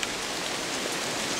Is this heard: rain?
yes